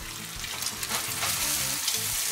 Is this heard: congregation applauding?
no